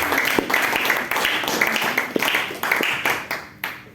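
Audience applause during a lecture session, a room of people clapping in uneven bursts with sharp individual claps standing out, fairly close and lively, tapering off near the end.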